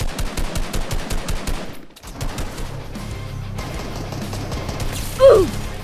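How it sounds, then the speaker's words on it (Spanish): Rapid automatic gunfire in the Fortnite video game, a close burst of evenly spaced shots for the first two seconds, then continued scattered firing and a denser rattle of noise, loud and without talk. "Escucho a alguien disparando."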